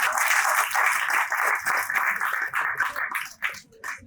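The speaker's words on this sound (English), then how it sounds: "needs a clap definitely" Live audience at a tech innovation challenge lighting talk claps for someone speaker, a dense burst of applause that thins and fades over a few seconds with faint voices underneath.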